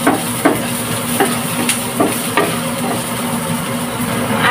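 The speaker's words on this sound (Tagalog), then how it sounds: "Magigisa na po tayo. Maglagay tayong oil." Garlic and onion sautéing in oil for a fish sarciado, a loud close sizzle with intermittent spoon scrapes and taps against the pan.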